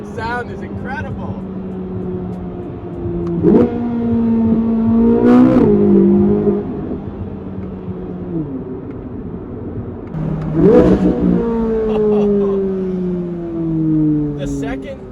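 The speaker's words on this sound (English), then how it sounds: "The second to first downshift is the best noise ever. You got a few pops in there and crispy downshifts." A Corvette Z06 with the naturally aspirated LT6 V8 rising through rapid revs and blipped downshifts. The engine note climbs and drops in sharp swells with a few pops, loud and close under occasional talk.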